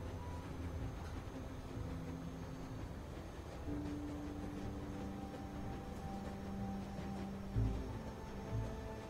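A train moves in The Walking Dead Season 1 video game, a steady low rolling drone with drawn-out tonal squeals and a couple of heavier thumps near the end, with no speech.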